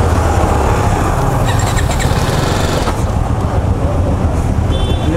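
A BMW G310GS single-cylinder motorcycle idling during a test ride, a steady low rumble close by with some surrounding traffic noise mixed in.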